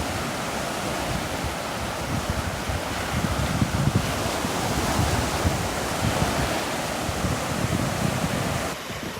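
Ocean surf breaking on the beach at Pawleys Island, a continuous loud wash of waves with heavy wind buffeting the microphone throughout, no voices.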